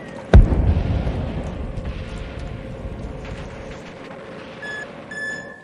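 A fused charge detonates against a tank with one sharp, loud blast up close. A long rumbling decay follows, and faint electronic beeps sound near the end.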